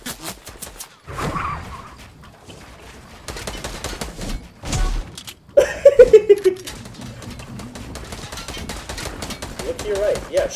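Gunfire in a Fortnite duos match: several rapid bursts of shots with sharp transients, loudest in the middle, mixed with game sounds and players talking.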